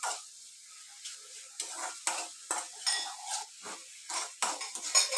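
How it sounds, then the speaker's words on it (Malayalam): Shallots sautéing in a pan for a chickpea curry, with repeated stirring scrapes and light clinks over a soft steady sizzle, in bursts throughout, close and moderately quiet. "ഉള്ളി നല്ല വാടി വരുന്നത് വരെ വഴറ്റിക്കൊണ്ടിരിക്കുക."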